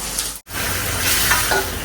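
Fish pieces dropped into hot oil in a pan, a brief gap followed by a loud, steady close-up sizzle and frying crackle with no voices.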